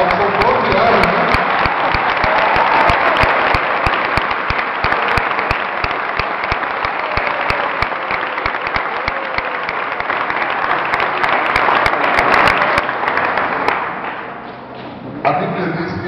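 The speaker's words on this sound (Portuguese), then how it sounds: "Uma grande salva de palmas." Sustained, enthusiastic clapping from guests at a wedding, with crisp individual hand claps popping through the dense applause and some voices underneath, before the clapping thins and fades near the end.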